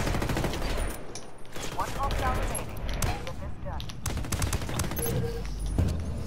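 Dense gunfire from the video game Ghost Recon Wildlands, rapid overlapping shots and bursts close by, with voices talking over the shooting.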